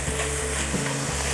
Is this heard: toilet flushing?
no